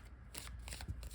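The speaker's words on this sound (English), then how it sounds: "I'm doing the full shuffling here" Pastel-coloured oracle cards being given a full shuffle, with a quick run of close, papery riffling bursts and soft shuffling friction.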